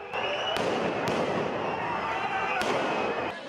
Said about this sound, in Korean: 카탈루냐 분리독립을 요구하는 시위대 사이로 총성이 울립니다.